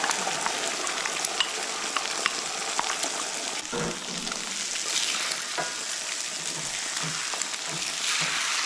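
Eggs sizzle and crackle steadily in hot bacon grease in a cast iron pan, with occasional scraping of a spatula against the pan.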